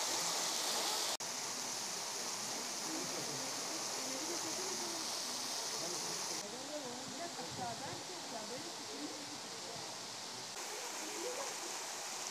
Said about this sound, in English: Feels so relaxing hearing this sound of waterfall.